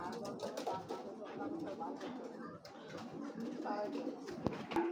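Racing pigeons cooing in a loft, soft repeated coos layered with rustling and someone talking over them at close range.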